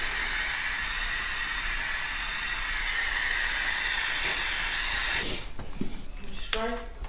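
A steady, loud spray hiss as Plasti Dip is coated onto a Durango for racing stripes, running continuously for several seconds before cutting off, then quieter handling noises and brief voices.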